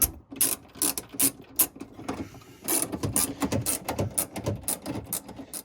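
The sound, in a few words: tightening bolts with stacked washers using a Ryobi tool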